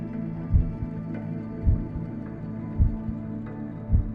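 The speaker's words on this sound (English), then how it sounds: "I hear a heartbeat from it?" A slow heartbeat sounds in the Blackshard video game, four deep thumps at roughly one-second intervals over a low droning hum, with no talking.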